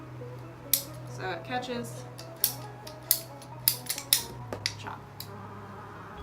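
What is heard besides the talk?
cutting a cosplay staff end cap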